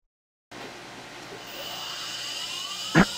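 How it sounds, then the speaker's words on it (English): A 1/8 inch ball mill cuts pips into titanium dice, a steady high whine from the milling machine that starts abruptly after a short silence, with a brief sharp burst near the end. "Now I'm using an 1/8 inch ball mill here"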